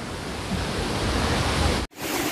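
River water flowing from Aliyar dam near Pollachi, a steady loud broadband rush close to the microphone, abruptly cut for a moment near the end before resuming.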